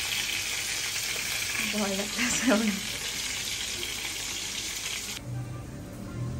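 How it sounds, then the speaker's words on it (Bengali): Fish fries intensely in hot oil in a home kitchen, giving a loud, steady crackling sizzle throughout, while someone speaks briefly over it. "মাছ প্রচণ্ড ফুটতেছে, ভয় লাগতেছে।"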